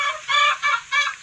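Two chicks kept in a cardboard box, near a black mother hen, peep in three quick, high, close bursts with short pauses between.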